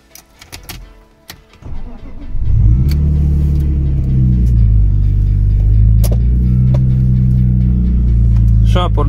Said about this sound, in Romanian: Hai să dăm și o ultimă cheie, să vedem cum pornește